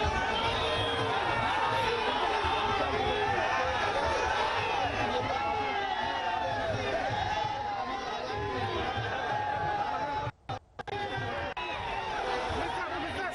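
A dense, loud crowd fills a street road show in Hyderabad with a continuous roar of chatter, calls and cheering, steady throughout with a brief dropout near the end.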